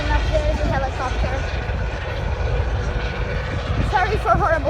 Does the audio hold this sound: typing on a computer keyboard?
no